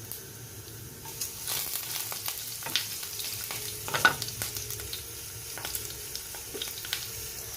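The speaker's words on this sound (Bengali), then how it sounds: "কড়াইতে দিয়ে দিয়েছে সর্ষের তেল, এখানে দিয়ে দিচ্ছে পাঁচফোড়ন। তেলটা গরম হয়ে গেছে অলরেডি।" Panch phoron spices crackle and sizzle in hot mustard oil in a kadai, a close steady frying hiss broken by scattered pops and the scrape of stirring, with no voices.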